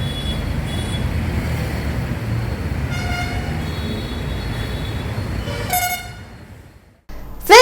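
Assorted loud vehicle horns honk over heavy traffic noise, with a series of harmonic horn blasts of differing tones in the middle and a sharp, bright honk at the very end.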